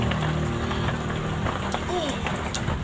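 Steady rainfall during the rainy season, a dense constant hiss of drops spread evenly through the whole stretch, with faint voices in the background.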